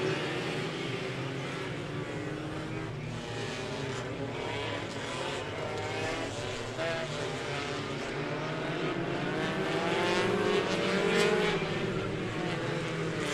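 Factory front-wheel-drive race cars roar through a 35-lap figure 8 feature at the Indianapolis Speedrome, a continuous droning mix of several engines at a distance that swells slightly toward the end, with no talk.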